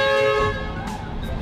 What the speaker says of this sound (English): Randomly honking at random people, basically annoying the crap out of them.